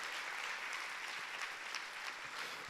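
A church congregation claps together in a steady, moderately distant patter of applause that fades and swells slightly over a few seconds.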